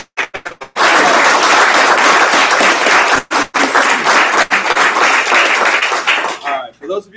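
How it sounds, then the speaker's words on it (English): A lunchtime crowd at a business forum gives a loud, dense round of applause that swells, dips briefly and fades, with a speaker's voice just before and just after. "Round of applause."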